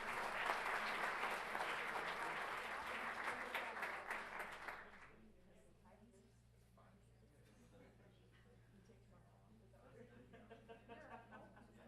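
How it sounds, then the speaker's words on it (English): An audience at a school governing board meeting gives a loud round of applause for perfect attendance honorees. The clapping lasts about five seconds, then fades into quieter room noise with some speech. "One more time, let's give them a big round of applause"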